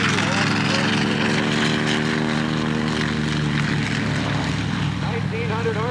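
A radial-engined airshow aircraft with an R2800 engine of 1900 horsepower drones loudly and steadily with a heavy propeller hum, and speech is heard over it.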